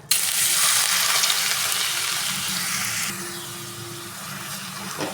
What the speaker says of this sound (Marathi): हा खीस आहे ना, तुपामध्ये ॲड करूया आता.